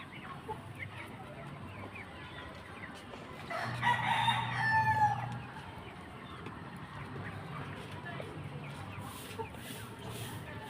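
A single young rooster crows once, fairly faint and a little distant, over a quiet outdoor background with low murmuring.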